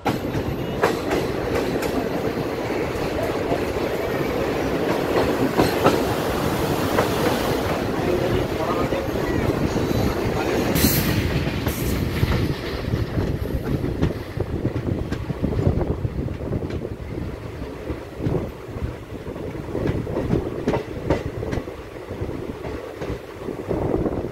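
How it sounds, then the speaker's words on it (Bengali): The Teesta Torsa Express rolls into Jangipur station, heard from inside the train as a loud, steady rumble with rhythmic clickety-clack of wheels, buffeting wind noise and occasional metallic clanks throughout. "আমাদের ট্রেন জঙ্গিপুর ঢুকছে"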